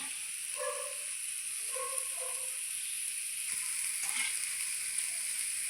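Water poured into a pan of sizzling curry, producing a continuous hiss and crackle of frying, with a few brief clinks of utensils against the pan.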